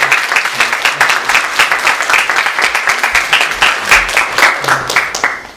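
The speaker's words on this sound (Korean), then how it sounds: "우리 박수로 환영하도록 하겠습니다." A church congregation applauds to welcome a newly registered member during Sunday worship, a lively burst of many hands clapping together that holds steady for several seconds before tapering off at the end.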